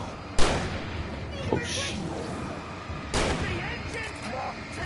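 A gun fires in the video game Alan Wake: two sharp shots about three seconds apart over steady game background, with a voice speaking briefly.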